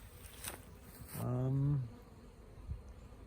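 A honeybee hive sits outdoors the day after a suspected swarm, and a single bee passes close by with a loud, brief droning buzz. Soft rustling and faint background noise surround it.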